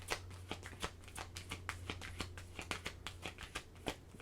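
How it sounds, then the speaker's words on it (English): A deck of oracle cards is shuffled by hand in a rapid, uneven run of soft papery riffles and flicks, close but quiet, with a faint low hum underneath and no talking. "let me get your oracle card here so I can get you out of here"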